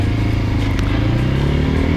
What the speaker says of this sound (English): Brad shoots off on my Africa Twin